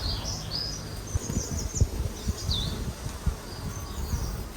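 Honeybees at an open hive in March, a close, continuous droning buzz with brief louder swells as individual bees pass near, and faint higher whines above the hum.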